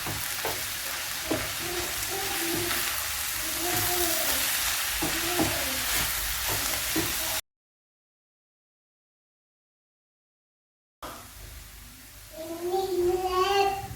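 A jackfruit dish is mixed with ground spice paste in a hot pan, giving close, steady sizzling and wet scraping stirs. A voice is heard in the background, and the sound cuts out briefly midway before resuming.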